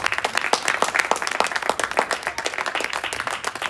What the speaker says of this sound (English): a real round of applause for,